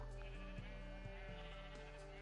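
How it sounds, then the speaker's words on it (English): A sheep bleats a few times in quick wavering calls over a steady hum of game background, close and clear. "Let's hit a sheep."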